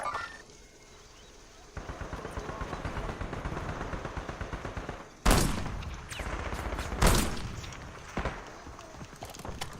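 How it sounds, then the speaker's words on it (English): Gunfire crackles in a battle royale video game with a moving gas zone, rapid shots and bursts rattling steadily, with two sharper loud blasts partway through; a voice talks faintly underneath. "Somebody shooting, which way they shooting from?"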